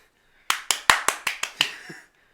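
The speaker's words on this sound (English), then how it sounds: "He likes to clap when he talks." A man claps his hands during a live-streamed announcement: about seven quick, sharp, close claps in a brisk burst, with no speech audible around them.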